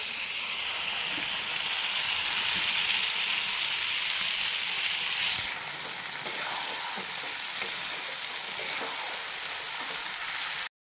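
Potatoes fry in hot oil in a kadai, giving a loud, steady crackling sizzle that softens slightly midway and continues without speech.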